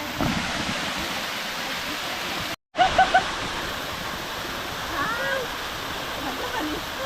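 Small forest waterfall splashing in a steady, close broadband rush that is briefly cut by a short gap, with a few faint chirps over the continuous flow.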